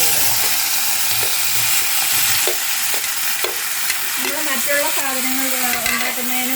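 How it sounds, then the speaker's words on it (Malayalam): Onion, green chili and tomato sautéing in oil with brinjal in the pan for an eggplant chilli dish, a steady loud sizzle with scraping stirs throughout and no talk. "ഇനി നമുക്ക് ആ പാത്രത്തിലോട്ട് തന്നെ ഈ വഴുതനങ്ങ കട്ടി സവാള കട്ട് ചെയ്തതും പച്ചമുളകും തക്കാളി എല്ലാം കൂടെ ഒരുമിച്ച് തന്നെ"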